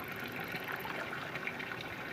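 Cold, sweet spring water pours steadily from a pipe near a mosque in the Kohistan area of Swat, a continuous close gushing splash with no voices.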